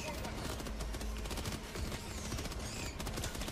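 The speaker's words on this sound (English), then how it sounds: "Reloading my machine gun." Sustained machine gun fire in Helldivers 2, a dense rapid burst of shots that continues for the whole stretch at steady loudness.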